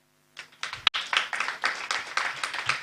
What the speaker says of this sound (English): please come here as we clap for her